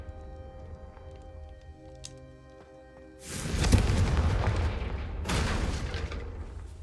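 A Confringo spell blast in Hogwarts Legacy erupts as a loud, sudden boom after a quiet musical stretch, then rolls into a crackling burst with a second strong impact shortly after.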